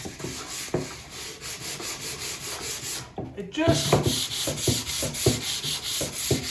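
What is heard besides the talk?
hand sanding wood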